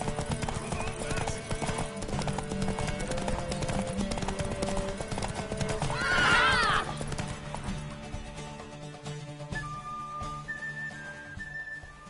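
Clip-clop of horse hooves runs steadily under voices in The Witcher 3, and a horse neighs loudly in the middle, with faint music behind.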